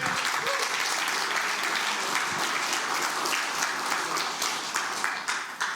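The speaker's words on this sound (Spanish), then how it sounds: "Dele palmas al Señor, hermano." A church congregation at a Spanish-language service breaks into sustained applause, a continuous, fairly distant roar of many hands that stays even throughout and tapers slightly at the end.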